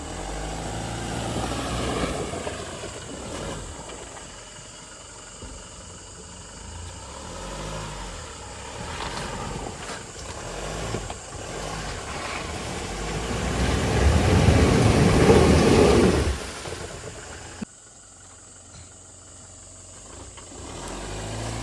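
An off-road vehicle stuck in deep sand in a forest, its engine labouring and revving hard in a long swelling strain that peaks, then cuts off abruptly to a quieter idle.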